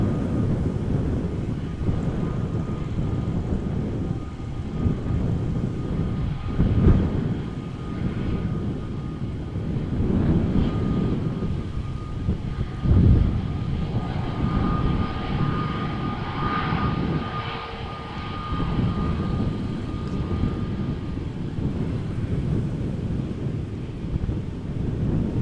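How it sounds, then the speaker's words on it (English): Play Airbus A320 bound for Reykjavik approaching at Amsterdam Schiphol: a steady, broad jet roar with rising and falling swells, gusts of wind buffeting the microphone, and no talk. "Here it is, the A320 from Play coming our way."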